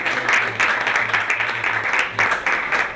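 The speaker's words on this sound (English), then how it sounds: "let's give her a round of applause" Applause from a small crowd at a streetcar cafe grand opening, close and fairly loud bursts of clapping rising and falling over three seconds with a low hum underneath.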